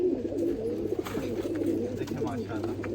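Pigeon cooing from a bobbed-tail (band dum) pet pigeon, soft repeated low coos close by, with someone talking over them throughout.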